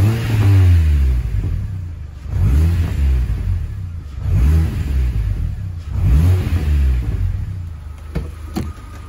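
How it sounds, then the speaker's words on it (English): A car engine on a Mercedes being jump-started is revved in four or five repeated swells, each rising and falling, loud and close, with a few faint clicks near the end. "Just rev this one a bit."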